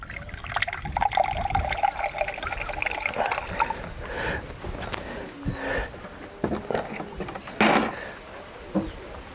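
Creek water pours and trickles through a water filter outdoors, a steady liquid rush broken by uneven splashes, drips and handling knocks, fairly close.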